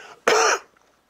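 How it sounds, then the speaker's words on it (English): A single sharp, close cough bursts out from an otherwise quiet room, lasting a fraction of a second before fading into near silence. "I'll make myself cough"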